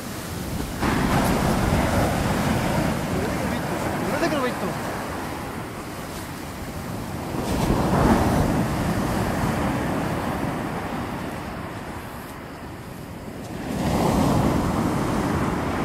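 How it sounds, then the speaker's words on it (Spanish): Ocean waves break steadily on a beach shore in Almería during surf fishing for corvina, a continuous loud roar that swells and recedes with each set, with wind rushing over the microphone. "Venga, la ola."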